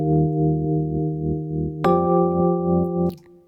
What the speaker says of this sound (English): So with the trem, it sounds like this.